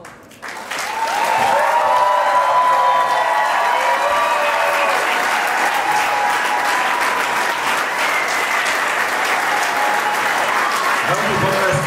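A room full of people applauds the new regional director of OVB Alfinanz Slovensko at a corporate ceremony, the clapping rising quickly and then holding loud and dense, with a voice sounding over it near the close.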